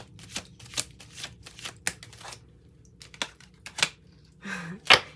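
Tarot cards being shuffled during a tarot reading, a run of crisp riffling and flicking bursts in an uneven rhythm, close and fairly loud, with no talk over them.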